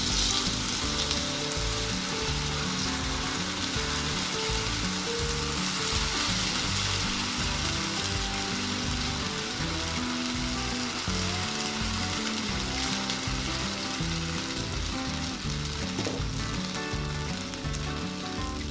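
Oil sizzles and fries steadily in a brass kadai on the stove, a loud continuous crackle held close for the whole stretch, with music playing underneath.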